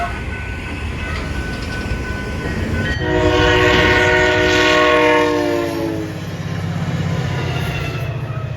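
A SunRail commuter train, locomotive 110 with cab car 2008, passes near a grade crossing in Orlando, Florida, sounding one long loud horn blast over the rumble and clatter of the cars.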